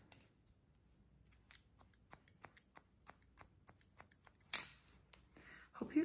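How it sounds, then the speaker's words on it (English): Scissors point cutting into the short hair on top of a pixie cut, a run of quiet, crisp snips at an irregular rhythm, close and soft, with brief rustling toward the end. "And then the top. Just gonna point cut into that."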